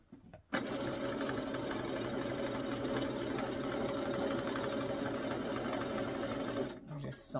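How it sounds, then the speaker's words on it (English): A sewing machine runs steadily and loudly, stitching closed the bottom of a rhinestone-covered romper. The hum holds unbroken for several seconds, then stops near the end with a brief handling noise. "I'm just sewing it around, closing the bottom off because this one had an open."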